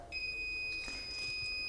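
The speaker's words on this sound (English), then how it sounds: "the scooter should start beeping at you" A Transformer 2 folding electric scooter gives off a single steady, high-pitched electronic beep during remote pairing, starting almost at once and holding clear and thin against a quiet background.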